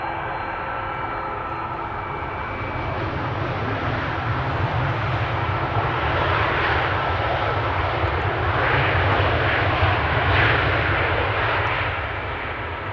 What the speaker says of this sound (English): Tarom meanwhile has landed.